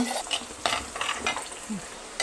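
Ginger garlic paste frying for prawn thokku, with cinnamon, cloves and fennel already in the pan, gives a steady close sizzle broken by several scraping stirs of a spoon against the pan.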